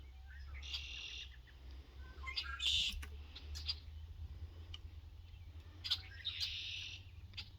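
Wild birds chirp and call near a backyard feeding spot where deer and chipmunks gather; short, bright chirps come in scattered bursts over a faint low hum, fairly close but soft.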